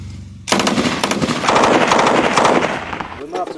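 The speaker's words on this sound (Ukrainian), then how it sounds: "Ось так нацгвардійці відточують свою вправність у користуванні зброєю." Weapons fire loudly and close during Ukrainian National Guard training, with a sudden burst of rapid automatic gunfire that keeps hammering for a few seconds before tapering off, with no talk.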